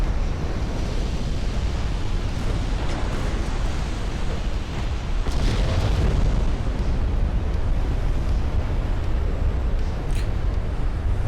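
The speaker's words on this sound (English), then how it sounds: "there's the flash fire" A flash fire explosion on a warship in the video game Ultimate Admiral: Dreadnoughts makes a loud, continuous roaring rumble like crashing surf. It swells slightly midway and never stops, with no voices over it.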